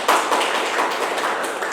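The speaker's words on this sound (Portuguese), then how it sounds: "Palmas para ela, né?" An audience at a public hearing on creating a municipal nature park breaks into brief clapping, a dense patter of hands heard close for under two seconds.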